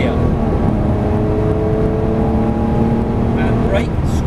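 A Lamborghini Murcielago LP640 accelerates hard on a racetrack after an upshift, its engine roaring loudly with rising tone from inside the car, while an instructor talks over it.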